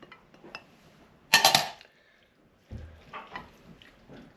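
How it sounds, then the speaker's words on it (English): A utensil stirs a seafood casserole mixture with cod in a dish, giving sparse clinks and scrapes, one louder rattling burst, then softer wet stirring knocks, close and otherwise quiet. "We'll stir that up good."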